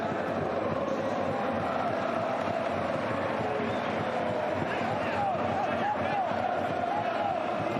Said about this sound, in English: It's nice to see such a warm round of applause there for Francesco Marini